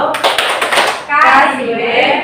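A group clapping chant, tepuk wow, led in a school setting: a quick run of sharp claps followed by voices chanting in rhythm, close and loud.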